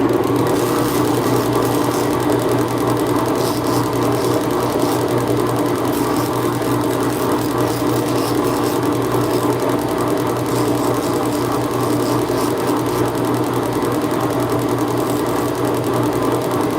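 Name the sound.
grinder with Scotch-Brite rounding knife handle scales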